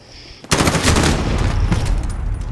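M4A1 rifle fire in Modern Warfare, a sudden loud burst of rapid automatic shots that starts after a quiet moment and keeps rattling to the end.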